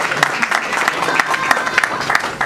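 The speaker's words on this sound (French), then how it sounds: "Donc on applaudit parce que le chef de famille" Guests at a civil wedding ceremony applauding: brisk, fairly loud clapping from a small nearby crowd, with voices murmuring underneath throughout.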